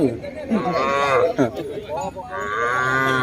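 Cattle at a Thai livestock market mooing loudly and close, long drawn-out lowing calls that overlap one another and fill the whole stretch.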